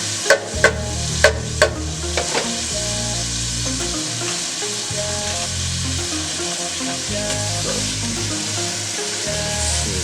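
Meat sizzling in a hot pan beside onions for Philly cheesesteak, a continuous loud frying hiss with a few sharp clanks of utensils at the start, no voices.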